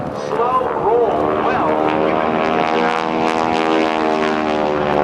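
A heavy aerobatic propeller airplane of about 5,500 pounds performs a slow roll at an airshow, its engine drone loud and steady with shifting pitch throughout, while a voice talks over it.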